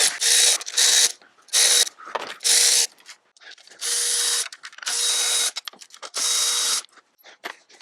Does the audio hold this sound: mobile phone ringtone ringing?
no